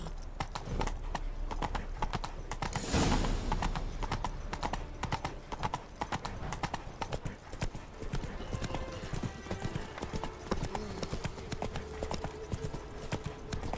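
Steady clip-clop of Geralt's horse hooves in The Witcher 3, a close, continuous rhythmic trot running through the whole stretch with a brief louder burst early on.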